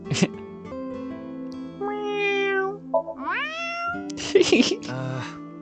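Several meows from a character in the video game AI: The Somnium Files – Nirvana Initiative rise and fall over a soft steady music bed, with a short vocal burst at the start and a louder cluster near the end.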